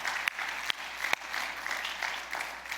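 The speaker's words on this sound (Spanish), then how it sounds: "Denle un fuerte aplauso de nuevo al Señor." A church congregation claps loudly together, a dense, steady wash of many hands with a few sharp nearby claps standing out, and no talking over it.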